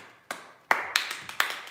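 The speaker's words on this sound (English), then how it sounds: "Let's clap some more" Hand clapping in a home kitchen during vegan cooking, five sharp separate claps at an irregular pace, close and clear with no talking.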